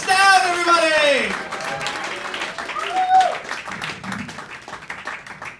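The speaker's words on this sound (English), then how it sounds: "Everybody start clapping now. Get nice and loud for the very first time." A crowd claps and cheers, building into loud applause while a voice speaks over it at the start.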